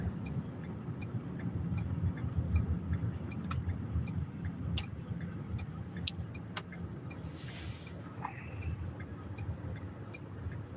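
Car interior on a morning drive through a town in Alaska, with steady low engine and road rumble throughout, a few faint clicks and a brief soft whoosh near the end.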